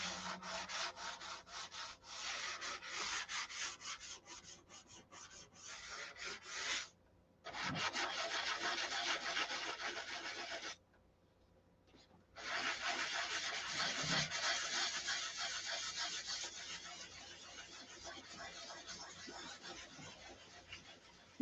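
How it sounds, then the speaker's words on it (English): Wood being sanded by hand, a steady rasping rub that runs almost continuously at close range, broken by two short pauses, with a brief voice in the background. "You're always sanding."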